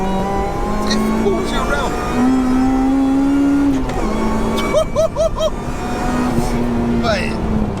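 A supercharged 316 bhp Honda DC5 Integra Type R accelerates hard in second gear, its engine note climbing and whining from inside the cabin while someone talks over it.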